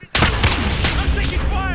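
Loud, rapid gunfire and explosive reports from a Call of Duty Modern Warfare firefight, starting abruptly and continuing in dense overlapping bursts with ringing echoes throughout.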